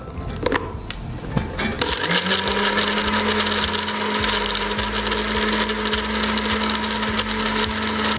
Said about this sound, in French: Nous allons mettre en marche notre robot mixeur.